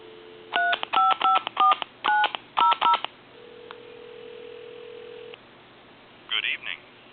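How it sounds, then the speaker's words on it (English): Rapid bursts of touch-tone dialing beeps in quick groups on a foreign desk-style telephone, then a steady hum of a dial tone, followed by a short recorded time-and-temperature voice. "I'm going to get you some dial tone. And I want to dial"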